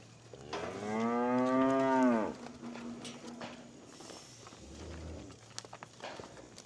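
A cow on a farm gives one long, loud, close moo lasting nearly two seconds, followed by quieter shuffling hoof steps and rustling in the pen.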